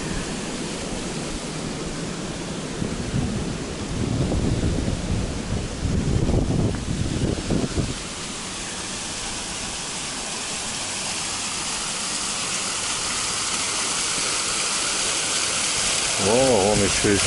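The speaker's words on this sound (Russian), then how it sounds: "Фонтан при входе." A water fountain at the entrance of an apartment complex in North Pattaya splashes steadily as a broad, continuous wash of noise, close and fairly loud, with brief voices rising over it partway through.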